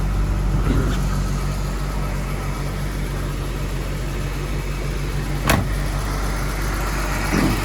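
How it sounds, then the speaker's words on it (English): A low-mileage 1983 Nissan 280ZX engine idles smoothly and steadily at close range, a constant even hum with a couple of brief clicks, and no talking over it. "Engine just purrs, air works, power steering."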